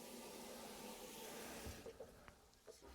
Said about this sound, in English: The sink works very nicely. You have running water.